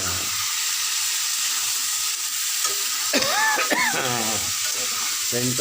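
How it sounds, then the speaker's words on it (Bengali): Meat sizzles steadily in hot oil as it is braised down, with stirring scrapes and clatter partway through and a faint voice in the background. "দিদি ভাইয়ের মাংস কষার হয়ে আসলো খুব কষছে ভালো করে"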